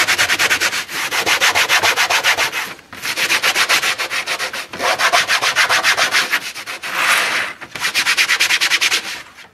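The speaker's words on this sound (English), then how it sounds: "So I take sandpaper and just clean off the edges." Sandpaper rubbed hard along the cut edges of a homemade Ski-Doo Rev 800 snowmobile vent part, loud close rhythmic scrubbing strokes in four long bursts with short pauses between.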